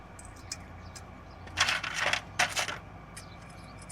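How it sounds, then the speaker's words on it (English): Metal cone washers are fitted onto a Toyota Land Cruiser 80 Series steering knuckle, with a few light clinks, then a cluster of bright metallic jingles and taps near the middle, close up against quiet background, no speech. "Put in the cone washers."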